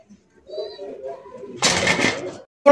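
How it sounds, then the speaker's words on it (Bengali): A Dhauka pigeon at a pigeon sale gives a soft, low coo, followed by a short burst of flapping or rustling and a brief clatter near the end. "মাক্সি কালারের একজন আপনার ডাউকা কবুতর সর্বোচ্চ সাইজ"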